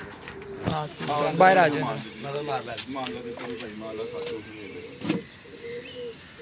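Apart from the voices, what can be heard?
golden pigeon cooing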